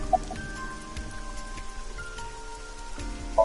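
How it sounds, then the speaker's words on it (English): Steady rain falls in AI: The Somnium Files, a constant, fairly loud patter with no break and a faint low rumble underneath, alone without voices. "This rain is awful, huh?"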